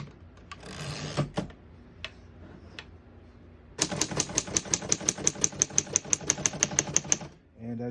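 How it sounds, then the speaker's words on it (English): Typing on a 1936 Underwood Universal portable typewriter, a quick close run of about twenty even, sharp key strikes after a few scattered clacks and a short mechanical rattle. "I'm gonna keep it on single for now and finish typing."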